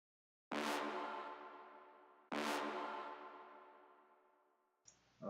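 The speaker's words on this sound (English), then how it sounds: "which is just a brass hit" Layered brass hit sample in an FL Studio beat: two loud, bright stabs that ring out and decay slowly, then a short, higher vocal tail at the end, with no talk.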